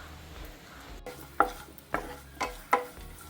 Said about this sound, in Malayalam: തേങ്ങ അരിഞ്ഞ് നെയ്യിൽ വറുത്ത് ഇടണം.